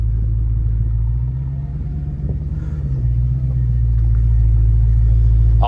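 A Dodge SRT Demon 170 engine runs with a steady, loud low rumble throughout, dipping slightly midway and then swelling back up, close by and with no talk over it.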